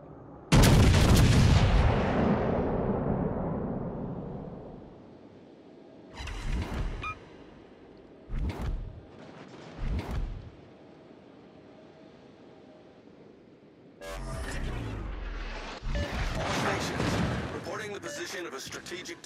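Artillery fire on a designated strategic target in a video game: a heavy opening blast with a long rolling decay, then several sharp separate booms and a dense burst of explosions near the end, with radio-style talk in between.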